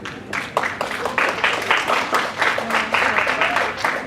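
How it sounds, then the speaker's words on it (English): Workshop audience giving a round of applause, a sustained burst of many people clapping with brief cheering voices, loud and near, fading slightly at the end. "Could you have a round of applause?"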